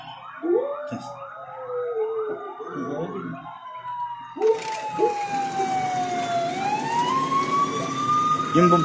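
A fire truck siren wails loudly and close, rising and falling in long sweeping tones over traffic rumble, with an engine growl beneath, as it responds to a fire in Sampaloc, Manila.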